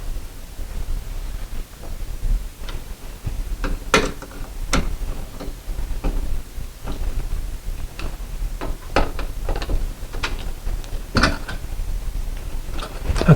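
Screws are driven tight to fasten a ceiling light fixture bracket, producing close, irregular ticking and ratcheting clicks over a low steady hum.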